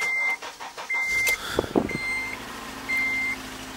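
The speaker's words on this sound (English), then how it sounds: "I'm just gonna turn the car on" A 2003 Honda Element sits idle with its ignition on, giving a steady low engine drone alongside repeated electronic chimes and beeps at regular intervals, near and moderately loud, with a few brief clicks.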